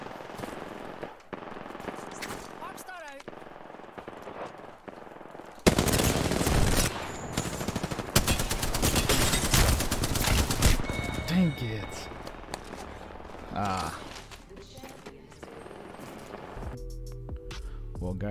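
Bursts of rapid automatic gunfire in the Apex Legends video game crackle loudly and continuously for several seconds, with quieter game sounds and a voice talking before and after.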